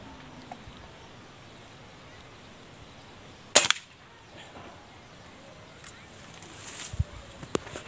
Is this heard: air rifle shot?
yes